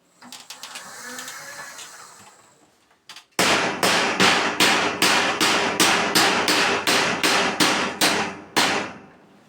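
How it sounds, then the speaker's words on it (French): Hammer striking a bent metal grille to straighten it, about fourteen sharp ringing blows in an even rhythm after a quieter stretch of scraping and handling, close and loud. "Je mets pas tout le marteau là."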